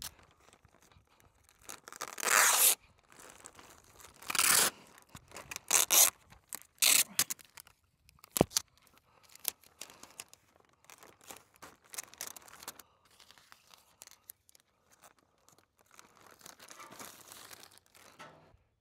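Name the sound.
Tyvek tape being torn and applied to tape a flap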